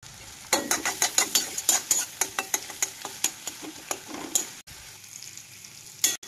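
Masala for loitta (Bombay duck) fish sizzling in a pan with repeated scraping stirs of a spatula, close and fairly loud, in a rhythmic run of strokes that pauses briefly near the end.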